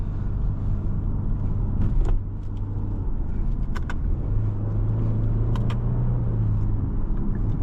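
Interior road noise from a 2017 Genesis G80 3.8 cruising along: a continuous low engine and tire rumble with a few faint clicks and rattles scattered through, steady and unbroken, no speech.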